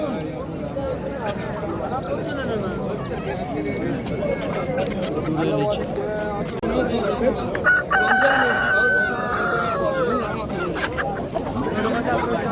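At a bazaar in Namangan, chickens cluck continually and a rooster crows clearly partway through, all under the steady babble of people talking close by.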